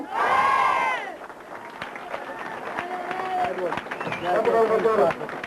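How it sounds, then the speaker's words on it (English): A crowd at an All Ireland Junior Club Final gives three cheers for Belmullet, with loud shouts rising after a leader's calls, mixed with clapping and general crowd noise in a hall. "put your hands together and cheer 3 cheers for Belmullet"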